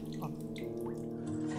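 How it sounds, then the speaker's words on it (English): A toilet flushes in the survival horror game Phobia 1.5, a steady rushing, gurgling water wash heard up close and alone with no talk. "Alright, I flush the toilet."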